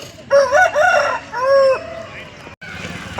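A rooster at a busy hen market crows loudly and close, one long rising and falling call, with clucking and crowd noise behind it.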